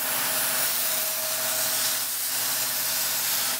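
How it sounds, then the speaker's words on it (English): A spray gun lays down the first coat of metallic bluish-silver base paint in a 240SX drift car's engine bay, giving a steady, loud, continuous hiss that runs unbroken throughout. "First coat of base going down."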